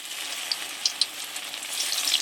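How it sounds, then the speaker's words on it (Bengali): Semolina pitha frying in hot oil gives a steady, close hiss of sizzling with a few small pops and crackles throughout, no voices. "পিঠেগুলো গা কিন্তু লাল করে ভাজবো না, এই সাদা ভাব রাখবো"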